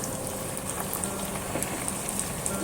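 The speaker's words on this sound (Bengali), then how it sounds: "এবার আমি অল্প পরিমাণে পানি অ্যাড করলাম" A little water goes into a hot pan of dum aloo, setting off a dense, even crackling sizzle like light rain, with scattered sharp pops, steady and fairly quiet.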